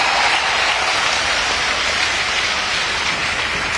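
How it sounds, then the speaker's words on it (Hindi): An audience at an Indian cultural event applauds, a dense, steady wash of many hands clapping with no voices audible. "और आपके हाथ की तालियां जरा हाथ उठाकर"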